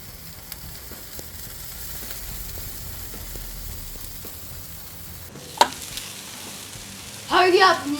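Chicken wings for a Naga hot wings challenge cook in a pan with a low, steady sizzle, broken by a sharp clatter midway and a louder burst of frying noise near the end.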